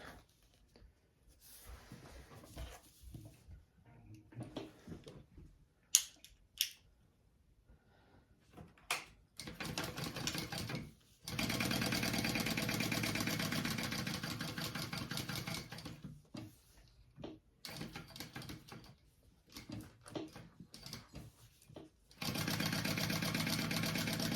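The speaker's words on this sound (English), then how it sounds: "I will sew down each edge at 1/8 of an inch seam allowance" A sewing machine stitching down folded fabric edges at a 1/8 inch seam allowance, heard as long stretches of steady mechanical whirring broken by pauses, clicks and fabric handling nearby.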